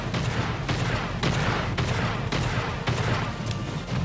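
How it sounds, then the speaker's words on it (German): Loud, dense gunfire and blasts from the space game Star Citizen during a boarding and multicrew mission, with repeated sharp bursts roughly every half second over a constant low rumble, and no talk. "Das war eine schöne Explosion."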